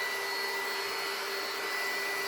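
A heat gun blows with a steady, even whine and airy rush while shrinking wrap around a large Easter basket, continuous and close throughout.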